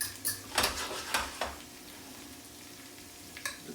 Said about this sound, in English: The garlic has to get somewhat golden before we add our artichokes into this skillet here.